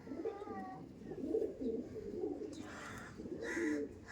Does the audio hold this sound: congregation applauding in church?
no